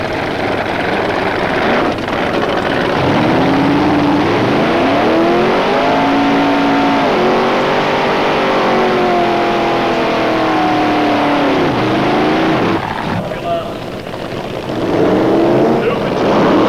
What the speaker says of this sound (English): Rob Lees will be looking to cross that finish line first in the yellow Mustang